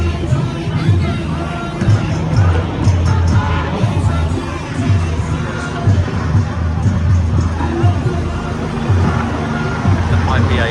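A large crowd at the March for Humanity on Sydney Harbour Bridge, a steady, dense hubbub of many voices with occasional cheers, traffic-like rumble and wind underneath, continuous throughout.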